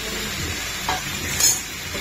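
Potatoes going into hot oil for a vegetarian Bengali potato curry sizzle steadily, a continuous frying hiss with a couple of stirring scrapes, close and fairly loud.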